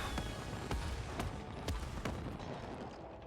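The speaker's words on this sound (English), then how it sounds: "you get to use the fireworks if you want" Fireworks in the co-op video game It Takes Two, a rapid run of loud popping bursts over a steady dense crackle that stays close and continuous throughout.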